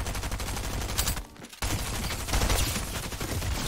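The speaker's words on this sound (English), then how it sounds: "Dude, that was just double SMG." Two submachine guns fire together in a video game, rapid dense bursts that run almost continuously, loud and close, with one brief gap before the sustained fire resumes.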